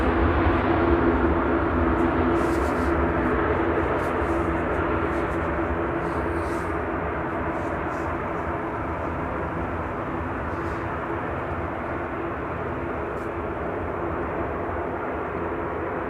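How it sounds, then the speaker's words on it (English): An airliner making a go-around at Manchester Airport roars overhead, a loud broad engine rumble gradually fading over sixteen seconds, without talk. "Oh, was that the go-around aircraft?"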